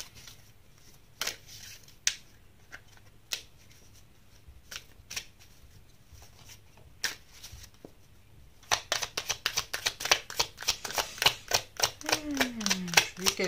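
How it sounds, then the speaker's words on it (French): Tarot cards are handled and drawn, with scattered soft flicks and taps at first. Then comes a quick, close riffling shuffle that patters rapidly, and a quiet voice murmurs near the end. "Et on va sortir une autre carte."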